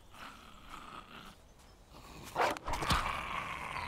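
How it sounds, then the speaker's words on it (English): A dog growls in the survival video game Survival Fountain of Youth: a rough, low snarl swells briefly after faint background noise, moderately loud and close, with no speech. "I'm going to find another dog."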